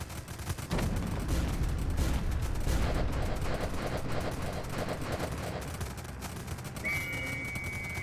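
Artillery strike and machine gun fire in the Northend Tower Defense video game: heavy booming impacts give way to steady rattling bursts of automatic fire, dense and continuous, with a brief high tone near the end.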